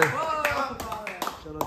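A few people clap in short, uneven bursts, sharp individual claps landing close by amid voices chattering over them.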